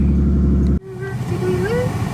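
A truck's engine drones loudly at idle, then cuts abruptly and gives way to a rising engine note as the truck drives off, with a voice briefly audible over the motor.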